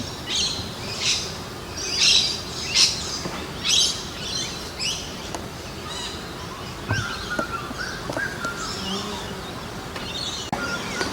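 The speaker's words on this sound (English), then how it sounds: "that bird making that noise now, that's a grey butcher bird" A grey butcher bird gives repeated calling phrases outdoors near a beehive, rhythmic bursts of song over a steady background hum of bees and wind.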